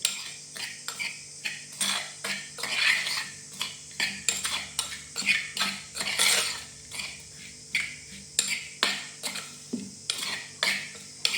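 Sardine pieces being stirred with chilli powder and turmeric powder in a bowl, a spoon repeatedly scraping and clinking against the bowl in a steady rhythm of close, distinct strokes, with no talking.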